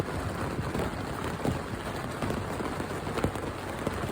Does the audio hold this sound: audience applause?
no